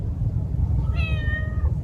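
A cat gives one clear, rising-and-falling meow, close and fairly loud, over a steady low background rumble.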